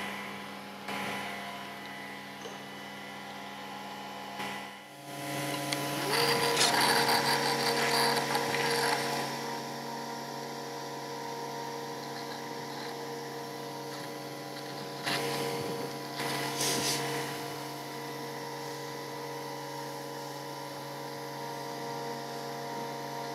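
A Festool CONTURO KA65 edge bander runs while applying edge lipping, giving a fairly quiet mechanical whir with ratcheting, gear-like clicks that swell for a few seconds partway through, then settle back to a lower steady hum.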